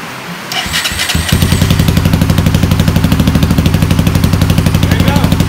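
A rebuilt Honda 300EX ATV engine cranks, catches and settles into a loud, fast, even putter close by, with the rhythmic single-cylinder pulses running steadily to the end.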